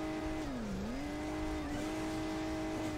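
A car engine in the mobile game Hill Climb Racing 2 drones steadily, its pitch dipping once and then holding as the vehicle climbs, with no talking over it.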